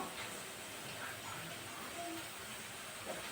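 Pakoda dough pieces fry in well-heated oil, giving a continuous soft sizzle and hiss at a steady, fairly low level with faint crackles throughout.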